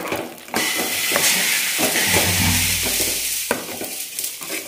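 Moong dal payasam being stirred in a pot, a continuous bubbling hiss with soft scraping strokes and a few light clanks of a spoon against metal, close and alone.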